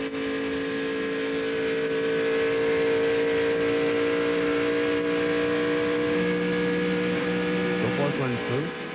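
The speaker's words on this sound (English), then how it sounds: "Do you hear that engine?" NASCAR Busch Series race car at the 2000 NAPAonline.com 250, its engine droning steadily and loudly on track, with a sustained even note and a brief warble near the end.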